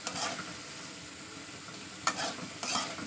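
Prawns stir-fried in a pan sizzle softly and steadily, with two or three brief scraping stirs near the end, close but fairly quiet.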